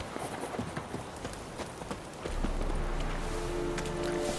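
Horse hooves clip-clopping at a steady walk in the video game The Witcher 3, over background ambience, joined midway by a low hum and soft tonal music.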